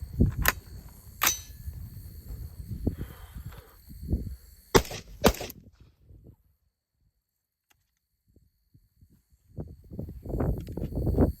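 A pistol fires its first magazine, a handful of sharp, sudden cracks spaced unevenly over several seconds amid quieter handling noise, then a stretch of near silence.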